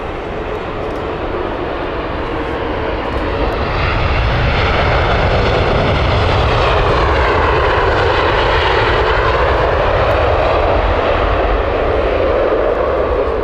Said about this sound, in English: Beautiful Airbus A350 here from British Airways.